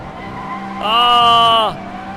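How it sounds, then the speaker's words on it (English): KTM X-Bow drifting in Assetto Corsa, a sustained harmonic tire squeal rising out of steady engine drone for under a second, loud and close, then fading back to the engine hum. "what about drifting the KTM crossbow?"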